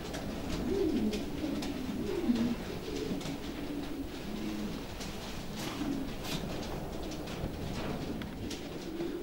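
Racing pigeon, a long-distance hen, cooing in soft repeated low phrases over a steady background hum, moderately close, with faint bird noise around.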